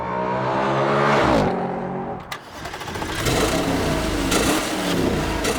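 Audi RS5 V8 engine, 4.1-liter and 450 horsepower, revving hard under acceleration, a loud, close, steady roar that climbs in pitch, breaks briefly at a gear change, then builds again.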